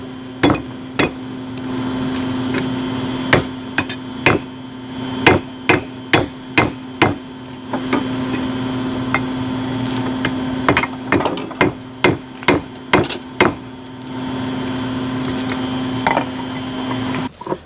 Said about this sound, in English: For one, he wouldn't go back to that plastic hammer he was using to drive it in.